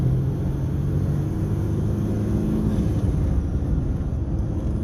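A small hot hatch accelerates through its gears, heard as a steady, close engine drone and road rumble with a faint rising tone, and no talking.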